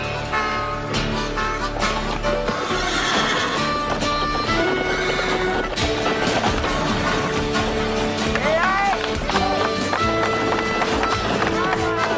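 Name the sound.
horse neighing and hooves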